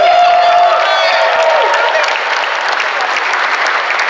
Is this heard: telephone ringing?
no